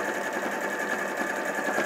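Close and steady, a sewing machine hums without pause as it stitches a quarter-inch seam down the edge of quilt fabric with a wedding ring ruler.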